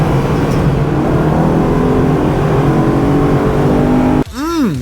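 A Corvette-era sports car with factory individual throttle bodies and stock exhaust gives a loud, continuous intake roar and engine drone at steady revs, close up, ending with a sudden drop and a rising-falling whine.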